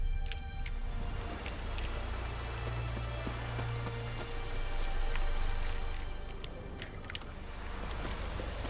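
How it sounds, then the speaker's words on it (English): Steady rain falls in The Witcher 3, a continuous, even hiss of drops that stays dense and unbroken throughout with no talking. "here it can rain all day"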